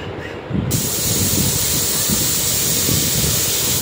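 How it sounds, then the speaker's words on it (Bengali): A pressure cooker holding soaked chana dal and raw jackfruit vents steam in a loud, steady hiss that starts after a brief quieter moment and then holds continuously near the listener. "কুকারে একটা কি দুটো সিটি দিয়ে নেব"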